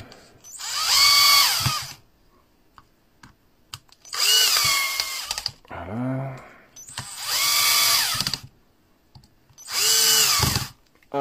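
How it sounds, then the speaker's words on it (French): A 12-volt cordless drill, its battery rebuilt with Sony VTC5 cells, screws a tool casing back together in four loud whining bursts separated by short pauses, with a brief low sound between the second and third bursts and no speech. "Avant, on va revisser la carcasse."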